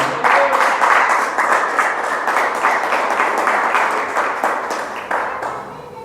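A church congregation applauding steadily, dense clapping at a moderate distance that holds for several seconds before tapering slightly.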